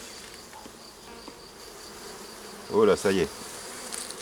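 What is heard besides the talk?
honey bees buzzing at the hive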